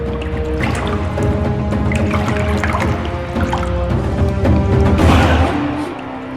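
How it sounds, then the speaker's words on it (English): A small waterfall in a desert wash splashes and trickles continuously, close and fairly loud, a steady broadband rush of falling water with no talk over it. "I've wandered out into the wash now, and I've come across this beautiful little waterfall"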